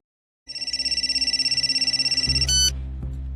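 Telephone ringing in a Hindi drama: a loud, rapid electronic warble repeating steadily for about two seconds, then cut off as a lower hum and a thud take over.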